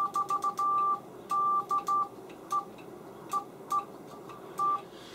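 Morse code CW tones from a Xiegu G90 QRP transceiver keyed into a dummy load: a loud, close, steady pitched beep broken into short and long bursts, with irregular pauses between characters and no voices.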